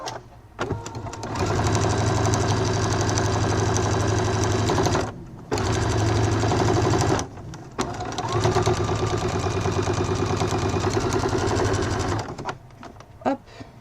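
A sewing machine runs a long topstitch along the edge of a fabric wallet: a steady, loud, fast mechanical whirr that stops briefly twice and then resumes, with faint clicks at the end.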